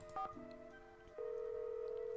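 A phone is dialed in the Nancy Drew game White Wolf of Icicle Creek: a quick burst of keypad tones, then a steady, quiet ringback tone that holds through the rest of the moment.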